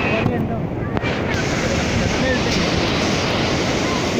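Water waves washing at the shore, a steady broad rushing wash with heavy wind buffeting on the microphone throughout.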